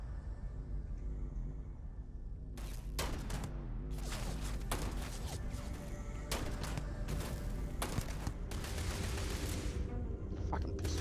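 Pistol shots in the sci-fi video game Starfield, a string of sharp cracks fired in irregular clusters over a constant low background rumble.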